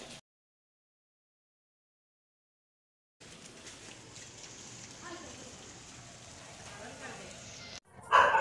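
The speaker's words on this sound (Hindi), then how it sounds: "बाहर बारिश भी हो रही है" A few seconds of silence, then a steady, soft hiss of falling rain, ending with a brief louder burst.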